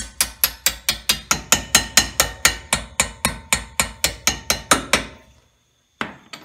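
A hammer taps a brake caliper pin into place on a Fox Body Mustang fitted with Cobra calipers, about twenty rapid, evenly spaced metallic strikes close to the mic, then a pause and one final tap.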